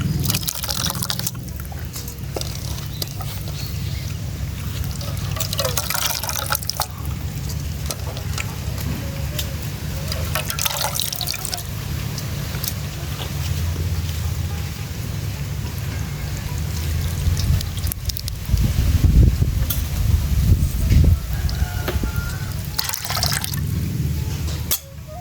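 Thick first coconut milk is squeezed out of grated coconut by hand, liquid splashing and dripping into a bowl in uneven bursts, with bits of faint background sound throughout.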